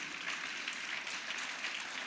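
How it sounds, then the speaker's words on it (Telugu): A congregation at a Christian sermon claps in a steady, dense patter of many hands, moderately distant and even throughout, with no talking over it. "అన్నవాళ్ళు చప్పట్లు కొట్టండి."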